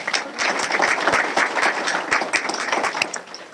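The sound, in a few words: applause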